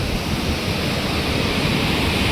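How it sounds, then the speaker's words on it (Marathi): A steady, loud roar of falling water, dense and unbroken from start to finish, from the Kindri waterfall heard up close. "एकदमच खतरनाक धबधबा आहे हा"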